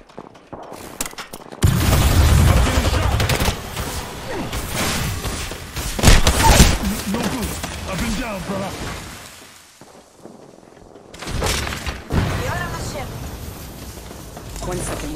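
Gunfire in the battle royale game Apex Legends, close heavy bursts of shots and booming impacts in clusters with short lulls, mixed with game voices talking.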